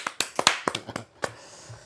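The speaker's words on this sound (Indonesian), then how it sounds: "Tepuk tangan dong." Several people clap their hands in a short burst of sharp, uneven claps at a podcast recording, fading into a quiet room within two seconds.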